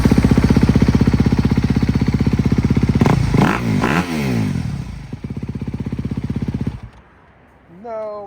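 A 2026 Honda CRF250FX off-road bike on its stock exhaust idles loudly and close with a fast, even thump. Midway there are a few sharp blips and scraping clatter, then the engine settles again and cuts off near the end.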